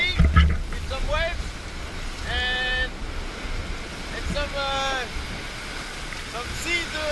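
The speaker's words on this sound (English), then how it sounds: "It's a bit windy, with some waves" Wind and waves aboard a racing sailboat in the Roaring Forties, with rushing water and gusty wind buffeting the microphone throughout while a voice speaks intermittently over the noise.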